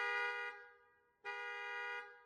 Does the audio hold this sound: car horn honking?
yes